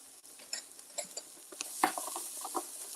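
Sliced orange and yellow peppers stirred in a skillet, giving scattered scraping and clicking strokes over a soft, low sizzle, close by with no voices.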